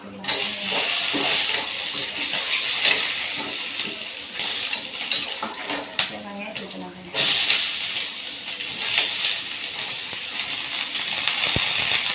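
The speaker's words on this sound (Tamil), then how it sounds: "இதுக்கப்புறம் தண்ணி வந்து சேர்த்துக்கலாம்." Water poured into a pan of sizzling fried chana dal, giving a steady loud hiss and steam sputter with a sharp surge partway through, close up.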